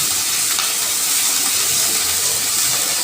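Ginger, chili and garlic paste sizzles steadily in hot oil as it is sautéed for a fish curry, a dense, continuous frying hiss close to the pan with faint stirring scrapes and no talk.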